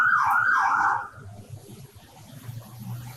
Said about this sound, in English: you're going to have to put up with this siren as it comes by me.